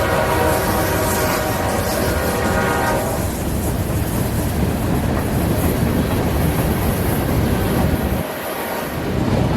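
A long freight train led by an AC4400 locomotive, with five engines and over 10,000 feet of cars, roars past loudly and steadily. A horn blast sounds in the first few seconds, under a continuous rumble and rail noise.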